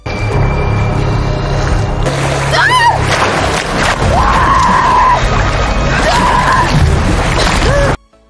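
A woman screams in panic while swept by a strange current at sea in the 2024 film Survive, her rising, wavering cries repeating over a loud, continuous wash of water and film score.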